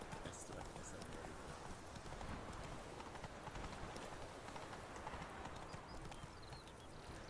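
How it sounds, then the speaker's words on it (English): A horse gallops in The Witcher 3 with continuous rapid hoofbeats over rough ground, steady and fairly loud, while a voice talks over it. "Horse Riding always makes me feel Zoro, though"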